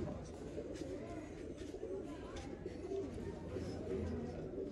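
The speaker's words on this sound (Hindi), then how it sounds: "ये देखें जी दोस्तों कबूतर," Breeder pigeons cooing close by in a loft, with soft, repeated throaty coos layered over a steady background hum and rustle.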